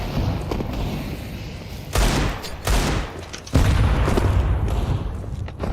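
Grenade blasts and heavy gunfire in a video game, with loud booming bursts cutting in over a continuous roar of battle, each explosion sharp and close.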